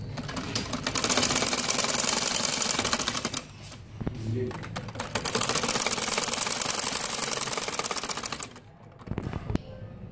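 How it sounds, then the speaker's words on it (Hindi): A sewing machine stitches the second side of a salwar hem, two loud close bursts of rapid mechanical whirring separated by a short pause, with someone talking over it. "अब ये मैं दूसरी तरफ से इसको सिलाई लगा रही हूँ।"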